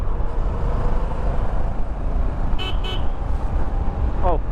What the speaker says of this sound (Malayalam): അങ്ങനെ ഞാൻ കറക്റ്റായിട്ട് ഒരു ശേഷം ഹോൺ അടിച്ചു.